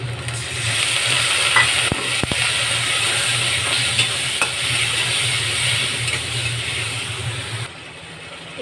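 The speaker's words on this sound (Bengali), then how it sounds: "একটু আদা বাটা দিয়ে একটু জল দিয়ে কষবো।" Ground spices and ginger paste cook down with a splash of water for a fish curry, giving a loud, close, steady sizzle and hiss with a few stirring knocks, easing near the end.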